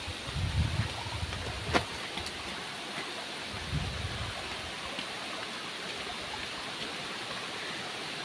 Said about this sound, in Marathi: आमच्या वाडीचा छोटासा धबधबा, मिनी धबधबा